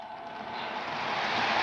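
A postwar-style Williams 671 turbine toy train locomotive reverses along the track with a steady, rising whir of its motor and wheels, fairly close and alone without talk.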